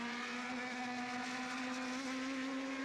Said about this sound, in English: the singing Mechachrome engine in the background